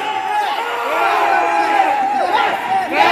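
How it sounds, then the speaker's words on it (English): A large crowd at a wrestling-themed fan convention in a Makati mall shouts a loud, sustained collective response, voices overlapping into a continuous roar that surges again near the end. "That's a resounding yes in the crowd."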